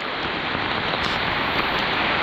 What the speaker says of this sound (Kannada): ಹೆವಿ ಮಳೆ ಜೋರಾಗೋಯ್ತು